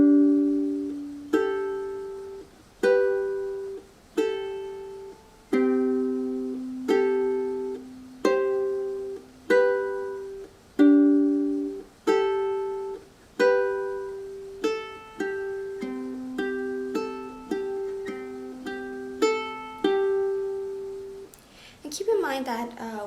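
Ukulele practicing the opening section of a song, with plucked chords and single notes at a steady, moderate tempo. Each note is clear and rings out, and it plays alone with no voice over it.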